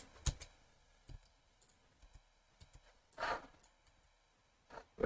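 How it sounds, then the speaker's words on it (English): A computer keyboard key is tapped during 3D modelling work, giving a few isolated, quiet clicks spread apart, with soft breathing and faint desk noise between them. "hit Tab on my keyboard"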